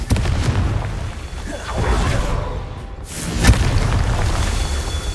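A Confringo blasting spell explodes in Hogwarts Legacy, a loud booming burst with a whooshing rush, followed by a second sharp blast and rumbling decay.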